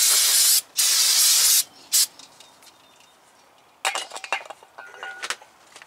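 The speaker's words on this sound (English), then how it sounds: "Bounce it down real good with some brake cleaner." Brake cleaner sprayed onto the front brakes and rotors of a 2012 Dodge Ram Bighorn 1500 in two long, loud hissing blasts, then a short burst, followed by clinking metallic handling noises nearby.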